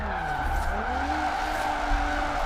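Tire squeal from a Nissan 370Z doing drift donuts in Forza Horizon 4, a continuous tonal screech over a steady engine drone, loud and close, with pitch sliding as the car spins.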